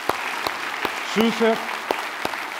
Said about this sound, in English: Please give an applause for the platinum sponsors